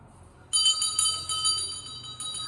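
A temple bell is struck over and over, its bright metallic ringing starting abruptly and sustaining in overlapping, closely spaced strikes that stay loud and near.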